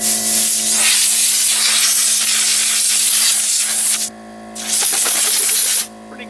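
Compressed air blasting dust out of a desktop computer, a loud, close, continuous hiss in two long bursts with a short break between them.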